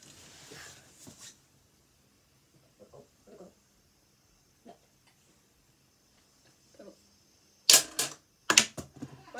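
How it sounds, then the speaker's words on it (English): A pencil drops and clatters on a hard surface during a phone unboxing, giving a few loud, sharp clicks near the end. Before that come quiet scattered taps and faint talk. "am I gonna keep on dropping the pencil?"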